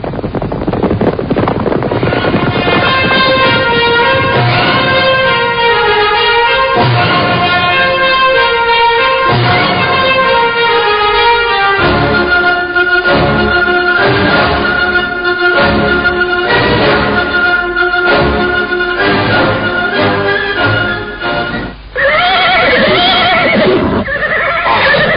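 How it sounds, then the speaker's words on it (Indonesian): Several horses with riders approach, loud repeated neighing and whinnying over hoofbeats and bangs, set against a steady musical score throughout. "Lihat, ada orang-orang berkuda menuju kemari."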